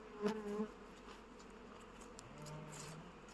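Honeybees at an apiary fill the air with a faint, steady working hum, with a few louder buzzes as individual bees pass close by.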